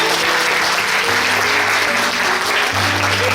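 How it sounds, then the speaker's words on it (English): An audience at an Indonesian cooking show and winter bazaar gives the cooking assistant a dense burst of applause. The clapping is loud and steady, with a low hum underneath. "So everyone, a round of applause for our assistant"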